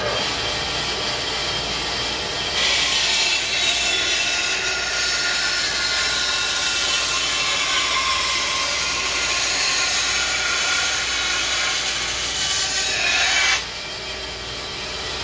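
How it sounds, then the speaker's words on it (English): A bandsaw slicing through wood in a workshop, a loud continuous whining roar that holds steady for about eleven seconds before the blade comes free and the motor idles on more quietly. "it's a bandsaw."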